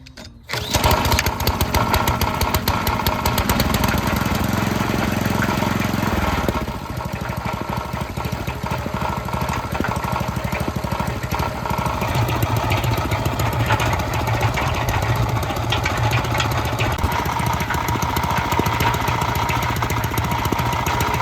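A 5 horsepower gas engine fitted to an old cast iron cement mixer starts and runs at a steady, loud chugging idle, its rhythm shifting slightly a few seconds in and then holding constant for the rest of the run.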